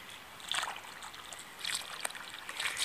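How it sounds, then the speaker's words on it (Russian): Water is poured into a planting hole in garden soil for seedlings, giving soft intermittent splashing and trickling bursts, fairly quiet and close. "Налью еще раз."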